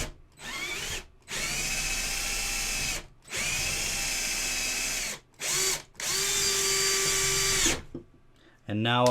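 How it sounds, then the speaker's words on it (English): A larger power drill bores into a resin model kit piece in several sustained high-pitched whining bursts, each a few seconds long, separated by brief pauses, close and loud. "Take our bigger drill."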